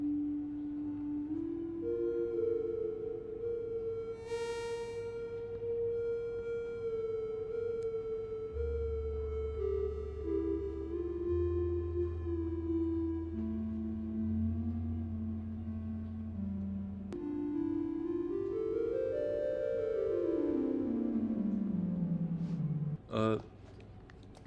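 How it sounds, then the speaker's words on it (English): Simple sine-like synth tones played in Ableton's Meld synthesizer, sustained gliding notes with a low bass line underneath, then a rising and falling sweep near the end, steady and clear with a voice talking at times. "I'm just using a sine wave, I think. It sounds like a sine wave."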